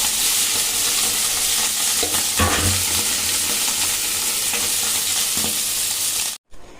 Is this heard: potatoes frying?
yes